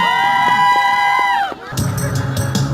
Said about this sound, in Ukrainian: Можете вже кричати браво і плескати